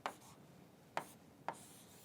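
Three short, distinct strokes of chalk or marker on a classroom board while an equation is written, spaced unevenly with quiet pauses between, close and faint, with no one talking.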